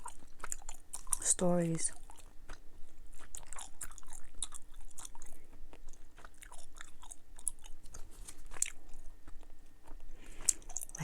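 Dubble Bubble watermelon and strawberry bubble gum chewed close to the mic, soft wet chomps and smacks running steadily under near-continuous talking.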